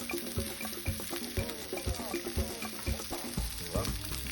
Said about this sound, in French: plancha très chaude, huile d'olive Toujours. et le produit découpé